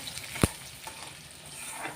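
Onion frying in a pan, a soft steady sizzle with one sharp clack near the start and a light scrape of stirring.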